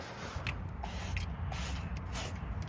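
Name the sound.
detailing spray sprayed into car interior cracks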